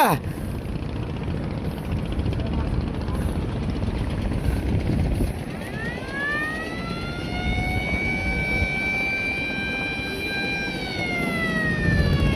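A motor boat engine pulls away, a steady rumbling drone over which a whining tone rises in pitch as the revs climb and then levels off, with broad wash and wind noise throughout and no clear talk.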